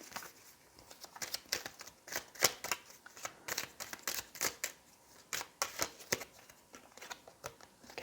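Oracle cards from a Sweet Dreams deck being shuffled by hand, a steady run of crisp riffling flicks and soft card slaps close to the mic, with no talking.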